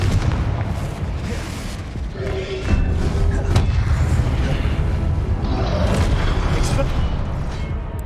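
Confringo explosive spell blasts in Hogwarts Legacy: repeated deep booms and thuds land in quick succession amid dense, loud combat noise, with a sharp crack near the middle.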